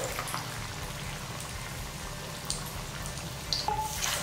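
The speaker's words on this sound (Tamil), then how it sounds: "இப்போ இத வந்து நம்ம பொரிச்சு எடுத்துறலாம்" Egg vadai frying in hot oil in a pan, a dense, continuous crackling sizzle like rain, fairly loud and close, with a few sharper pops near the end.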